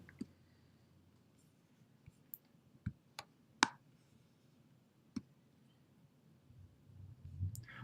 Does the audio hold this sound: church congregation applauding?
no